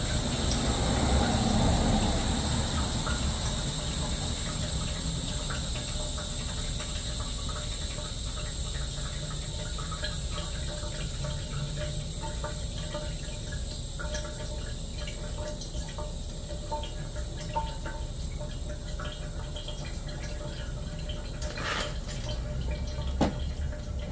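Transmission oil draining from a Toyota 4Runner, a faint steady trickle and drip under a broad hiss of background noise, with a few sharp knocks near the end.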